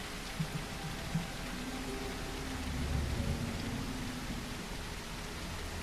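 A low rumble of thunder in the video game The Isle swells softly beneath a constant wash of rainfall, fairly distant and never sharp.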